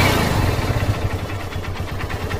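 A Honda CB Trigger motorcycle engine runs nearby with a steady, rapid low thumping pulse, alone and fairly close.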